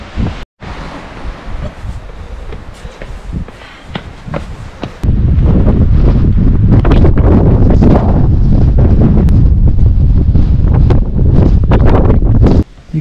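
Strong wind gusting outdoors in Girraween National Park, buffeting loudly into the microphone, lighter and uneven at first and then a heavy, constant roar for most of the clip, with no voices.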